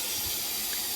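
Steady rushing hiss of water pouring from a newly installed Arctic Fox kitchen faucet, continuous and fairly close, with no voices.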